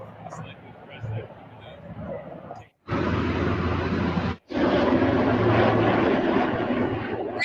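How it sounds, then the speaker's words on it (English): Helicopters flying over the reflecting pool, a loud, steady engine and rotor roar that fills the clip, with a quieter muffled stretch at the start and two brief dropouts. "Helicopters flying over the reflecting pool."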